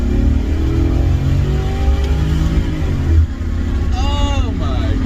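A Lincoln Mark car's engine pulls hard under acceleration, a steady loud drone rising in pitch from inside the cabin, with a short tire or wind squeal near the end.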